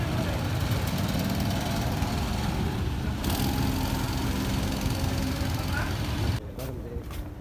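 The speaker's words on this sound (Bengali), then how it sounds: "এটা পিছনে ইঞ্জিন লাগানো।" An amusement park ride vehicle with its engine mounted at the rear runs loud and continuous, a rough droning rumble that drops off sharply near the end.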